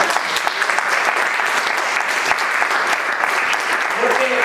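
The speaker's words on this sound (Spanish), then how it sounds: "Denle un aplauso al Señor ahora." Church congregation applauds steadily throughout, a dense even wash of clapping with faint voices mixed in near the end.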